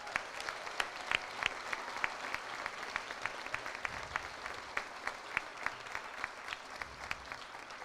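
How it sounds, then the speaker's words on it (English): Graduation ceremony audience gives a round of applause, a soft, distant patter of clapping with individual sharp claps standing out in a loose, continuing rhythm. "So can we just give a round of applause for that?"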